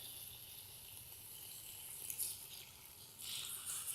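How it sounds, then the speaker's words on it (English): Water pouring slowly into a pot of goulash, a quiet steady trickle that swells into a brighter splashing gush toward the end. "now we're just gonna start adding water slowly"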